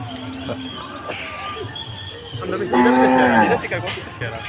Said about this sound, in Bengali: এই যে শুধু গরু নামাইতেছে হাটে থেকে